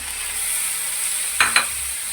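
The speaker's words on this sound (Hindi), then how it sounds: "अब मैं शामिल कर रहा हूँ टमाटर" Chopped tomatoes dropped into okra and onions frying in a pan, a steady sizzle with two quick soft thumps and stirring scrapes, close and clear, no voices.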